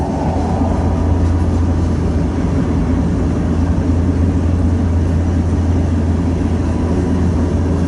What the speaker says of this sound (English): Another weird coil car from UP.